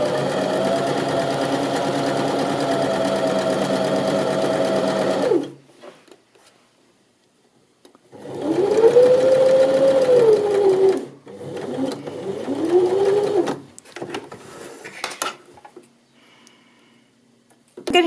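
A home sewing machine set to a 2.5 stitch length runs steadily for about five seconds while stitching a pocket into a side seam of a garment. Two shorter bursts of stitching follow after a pause, loud and close, with no talk.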